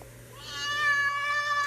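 A voice imitates a cat's meow, one drawn-out, rising and wavering mew, close and fairly quiet.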